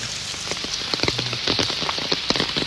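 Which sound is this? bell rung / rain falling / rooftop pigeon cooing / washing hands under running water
rain falling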